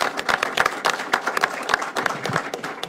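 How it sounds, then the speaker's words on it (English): An audience applauds at a Nashville ceremony where the mayor signs an order supporting LGBT-owned businesses: a burst of dense, lively clapping that holds steady for about three seconds. "Give yourself a round of applause."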